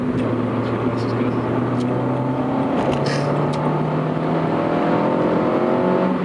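A Renault Sport Clio 172 Cup runs with a loud, steady engine drone and shifting harmonic tones, heard from inside the car, with a voice faintly present beneath.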